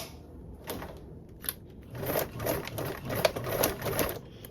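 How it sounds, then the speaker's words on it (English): A sewing machine stitches a 1/4 inch seam in quick bursts of rapid clattering, close and fairly quiet, with short pauses between runs. "Now we can sew with a 1/4 seam allowance."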